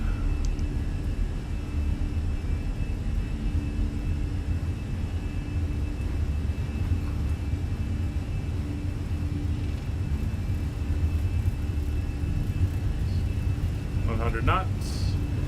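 Airliner engines spooling at takeoff power in a flight simulator during a Boston departure, a steady loud low rumble filling the whole stretch while a voice talks over it.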